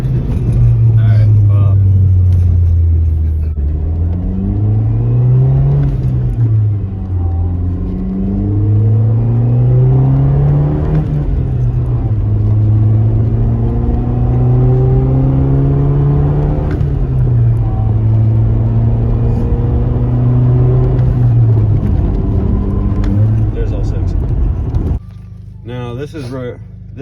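A six-gear manual car engine hums and repeatedly revs up and settles back as it drives, with smooth rising pitch sweeps through the gears, steady and close, with someone talking over it throughout.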